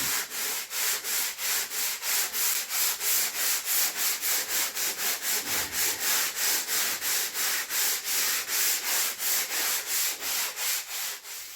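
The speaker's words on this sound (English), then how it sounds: "So I'll just keep on a-sanding." Sandpaper on a sanding block scrubs back and forth over Toyota Sequoia bodywork where a taillight is being deleted, making a close, even run of about thirty rhythmic rasping strokes.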